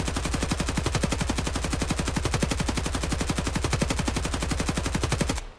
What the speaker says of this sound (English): let's go ahead and just shoot this up a couple of times to see what this RPK looks like